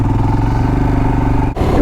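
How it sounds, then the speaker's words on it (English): A motorcycle with a loud clutch clatters and rumbles up close, a steady rattling engine drone with a brief dip near the end, loud and without talk. "my clutch is still loud"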